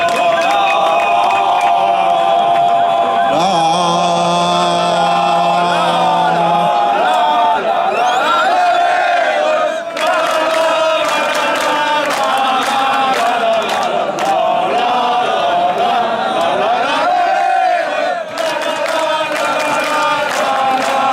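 Outdoor crowd at a 2018 soapbox race podium, loud sustained cheering and clapping with whistles and a horn-like tone early on, continuous and close throughout.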